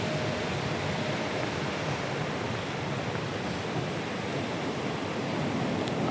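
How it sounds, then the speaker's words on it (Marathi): Sea waves rolling onto the beach at Ladghar near Dapoli, a steady, full surf roar with some wind buffeting, unbroken and fairly loud throughout with no voices. "आणि समुद्र किनारा बघा"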